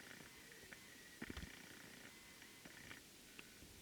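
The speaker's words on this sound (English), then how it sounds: "She is my friend's kitty, okay?" A cat purrs in a quiet, faint, steady low rumble, with a few soft bumps and rustles along the way.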